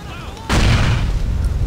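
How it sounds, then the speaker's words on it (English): A rocket explosion in the video game GTA IV: one sudden, loud boom bursts in after a brief quiet stretch, then rumbles and sustains with a heavy low-end roar to the end. "This number 2 seems to be the rocket explosion."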